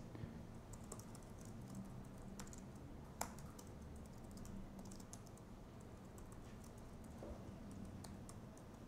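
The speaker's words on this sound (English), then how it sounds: "You become really bad at typing when you're doing it in front of a lot of people." Fingers type on a computer keyboard in a quiet room, soft steady key clicks running throughout with one sharper tap, faint and close, no voices.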